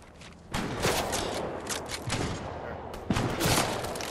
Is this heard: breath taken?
no